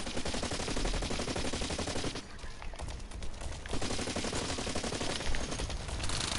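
Rapid bursts of video game gunfire in a PUBG match, loud and dense across most of the clip with a brief lull midway before shooting resumes.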